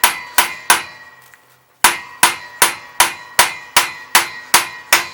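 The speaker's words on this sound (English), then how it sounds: "I'm bracing the bench against me so I can hammer it in" Sharp hammer blows ring out one after another at a steady pace, loud and close, driving a new pipe into a classic Mini SPi inlet manifold, with a brief pause after the first three strikes.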